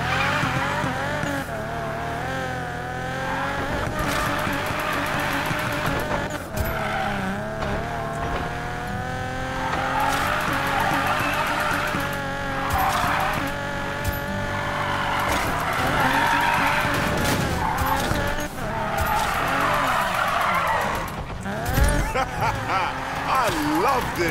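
A car in the Need for Speed Payback video game drifts, its tires squealing in long wavering tones over engine revs, with bursts of skidding throughout and game voices talking over the action.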